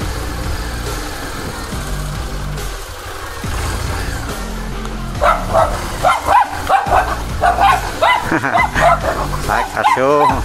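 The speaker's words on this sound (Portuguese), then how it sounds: "Cachorro me acuou ali, ó." Dog barking repeatedly at a stranger on a neighbourhood street in Itaberaba, Bahia, loud and close in quick bursts, with an engine idling underneath and someone talking.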